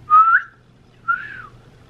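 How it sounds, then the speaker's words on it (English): Two clear, short whistled notes, the first slightly longer and louder, separated by a brief pause in a quiet room. "that's not a squeak, that's a whistle"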